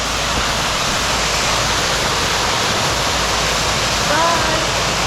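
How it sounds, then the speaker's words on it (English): Conasauga Falls, a waterfall, gives off a steady, dense roar of falling water that stays loud and even throughout, with a faint voice briefly audible near the end. "Last view of Conasauga Falls."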